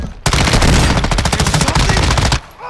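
Sustained automatic machine gun burst in Call of Duty: Modern Warfare 2, loud rapid rattling shots firing continuously for about two seconds, then stopping abruptly.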